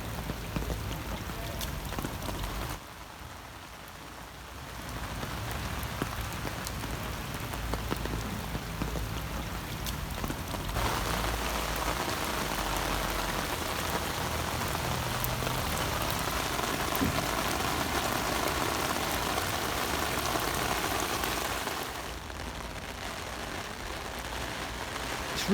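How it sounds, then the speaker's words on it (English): Steady rain falls outdoors in a continuous broadband hiss, loud and close with dense patter on surfaces, easing slightly for a few seconds before returning at full strength until the end. "It's really raining once again"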